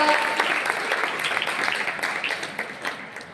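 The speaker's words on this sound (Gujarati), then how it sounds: "જોરદાર તાળીઓ પોકાર" An audience at a student development programme bursts into loud, dense applause that starts strong and gradually tapers off, with many hands clapping close by.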